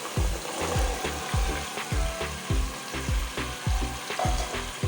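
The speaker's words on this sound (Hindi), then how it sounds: "ये इसको भूनते हुए 5 मिनट हो चुके हैं और हम इसमें डाल देंगे चने" Chickpeas being stirred into roasting masala in a pan for Lahori chana, sizzling under a rhythmic run of scraping stirs, close and fairly loud, with no talk.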